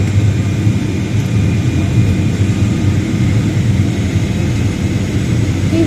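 Steady broadband engine roar inside an airliner cabin in flight on a trip to Trichy, loud and continuous throughout with a deep low-end rumble and no talk.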